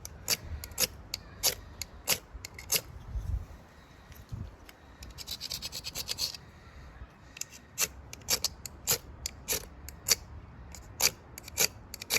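Wood is scraped by hand while making a fire, a rhythmic series of close, dry rasping strokes with a brief softer rubbing stretch in the middle.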